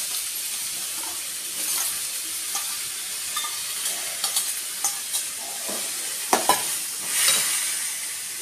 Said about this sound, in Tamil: இப்போ இந்த பட்டாணி சுண்டலை நம்ம இது கூட போட்டுக்கலாம்.